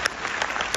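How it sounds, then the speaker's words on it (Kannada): An audience at a university Kannada performance claps in a brief, dense burst of applause, steady and fairly close, lasting under a second. "ಹಾಗೆ ಅವರಿಗೆ ಸ್ವಲ್ಪ ಜಾಸ್ತಿ ಚಪ್ಪಾಳೆ ಬೇಕು."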